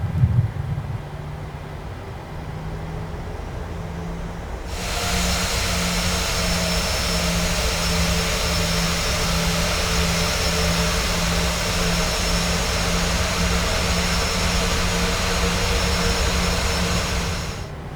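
Jet engines of a PMDG 737 in Microsoft Flight Simulator spool up with a sudden loud rise, then hold a steady roaring whine with a high tonal hum throughout, after a quieter idle at the start.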